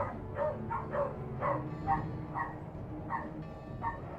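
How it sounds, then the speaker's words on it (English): A dog barks repeatedly in a steady series of about nine rapid woofs at moderate distance over a low background hum. "Oh, I just heard another dog."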